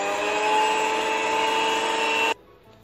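An electric hand beater whirs steadily through cupcake batter with vanilla essence, a constant motor hum lasting about two seconds, then stopping abruptly.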